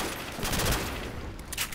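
Rapid bursts of P90 submachine gun fire in the WAW Custom Zombies video game, a short, dense rattle of loud shots with no talking.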